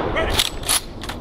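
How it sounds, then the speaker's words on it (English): Rifle volleys from the firing party at an Army full honors military funeral, several sharp cracks in quick succession that ring out loud and close over a low background rumble. "the firing party fires three volleys for a total of 21 rounds"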